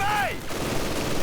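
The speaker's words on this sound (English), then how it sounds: "conscripts getting caught by the MG42 in the farmhouse." MG42 machine gun fire in Company of Heroes 2 rattles as a dense, loud burst of gunfire, with a brief whistling tone at the start and a continuous crackling stream of shots.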